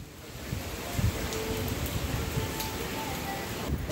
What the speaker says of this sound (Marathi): आता कुठे वाटतंय वादळ आहे, कारण की वाऱ्याचा वेग वाढला आहे.